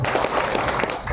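An audience at a public speaking session claps, a brief, dense burst of many hands.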